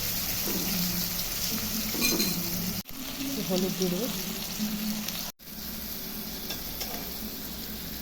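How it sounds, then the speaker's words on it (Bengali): Potatoes frying in a pan with dried red chilli, cumin, salt and turmeric for a Bengali fish curry, a steady sizzle with occasional stirring scrapes, close and moderately loud, while someone speaks briefly over it. "আলুটা ভাজা হোক"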